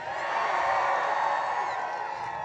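A political rally crowd in Kinston, North Carolina, cheering and whooping steadily, a sustained mass of voices at moderate distance with no single voice standing out.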